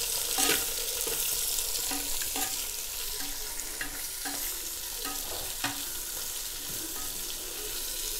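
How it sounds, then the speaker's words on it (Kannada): Onions and chillies frying in oil in a clay pot for chicken biryani, a steady bright sizzle with scraping stirring strokes and clinks at close range, no voices. "ಇಲ್ಲಿ ಆ್ಯಡ್ ಮಾಡಿ ಒಳ್ಳೆ ಒಳ್ಳೆ ಹುರಿಬೇಕು ಕೆಂಪಗಾಗುವವರೆಗೆ ಹುರಿಬೇಕು ಎಣ್ಣೆಯಲ್ಲಿ"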